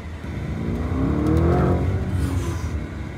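A Lamborghini Urus driving in silent mode on a city road, a smooth low engine and tyre drone that swells and briefly rises in pitch as the car speeds up, with no talking.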